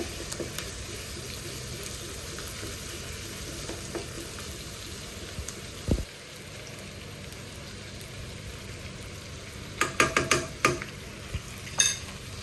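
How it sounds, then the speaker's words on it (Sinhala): Chopped onions fry in a pan as ginger garlic paste is added for an Eid meal, giving a soft, steady sizzle under occasional clinks and scraping from stirring. Sharper utensil clatters cluster near the end. "දැන් මේ ටික හොඳට ෆ්‍රයි වෙගෙන ඉන්නකොට අපි ජින්ජර් ගාලික් පේස්ට් එක දානවා"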